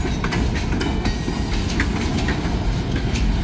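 A freight train rolls past close by, its railcars producing a continuous heavy rumble with rhythmic clickety-clack from the wheels and faint squeals, loud and unbroken throughout.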